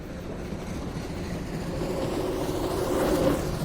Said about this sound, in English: Let's start the train again.